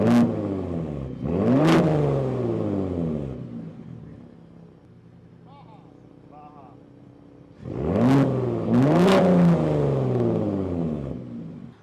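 A 2021 Ford Raptor's engine in Sport exhaust mode revs loudly twice, settles to a quieter idle, then revs hard twice more, close up.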